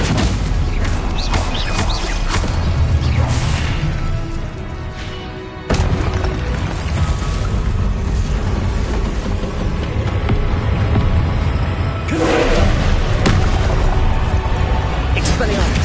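Spell blasts from Hogwarts Legacy combat, including disarming, fiery, freezing, summoning and shield casts, burst in a dense, loud, continuous barrage of booms and crackles, with a brief dip near the middle before the onslaught resumes.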